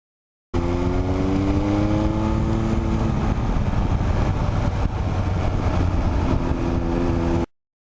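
A motorcycle engine drones loudly and steadily while overtaking a car on the road, rising through the revs with heavy wind rush before easing off as the power is taken off.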